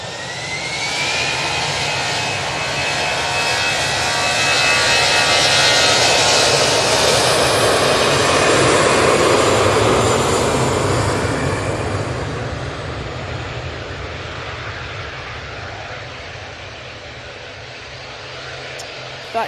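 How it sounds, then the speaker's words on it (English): An easyJet Airbus A320 jet takes off from Manchester Airport, a loud, steady engine roar that builds over several seconds, peaks near the middle and slowly fades into the distance, with a voice talking over it. "That EasyJet 320 is off to Malaga."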